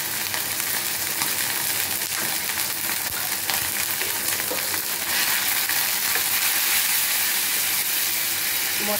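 Ground spices with turmeric, salt, chili powder and ginger paste sautéing in hot oil, a loud continuous sizzle and crackle with occasional stirring scrapes throughout, close up and without talk.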